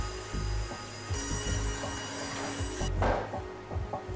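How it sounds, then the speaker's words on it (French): A saw cuts wood planks in a furniture workshop making a reclining daybed, giving a continuous buzzing whine with scraping, irregular knocks and rising noise partway through, fairly close. "les premières formes sont ébauchées sous la scie"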